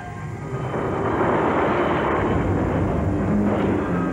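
A helicopter flies over a Vietnam War battlefield in a scene from the film Uncommon Valor, its engine and rotor giving a loud, steady, close roar that fills the whole stretch with no talking.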